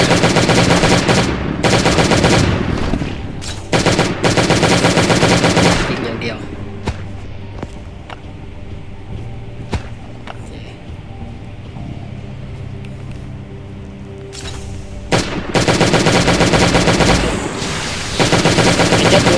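Video game gunfire erupts in loud, rapid automatic bursts at the start, then drops to a quieter stretch of scattered thuds and clicks before heavy firing returns near the end.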